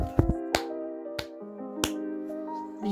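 A character in the Brawl Stars video game claps during a Spirit Wars match, giving a few sharp, bright claps spaced irregularly over steady game music.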